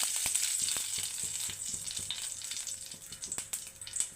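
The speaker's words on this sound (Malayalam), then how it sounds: "ഇതൊന്ന് ചൂടായിട്ടുണ്ട് നമുക്ക് കുറച്ച് കടുക് ഇട്ട് കൊടുക്കാം" Mustard seeds dropped into hot oil for a dosa and idli chutney, giving a steady close sizzle with scattered sharp crackles and pops throughout.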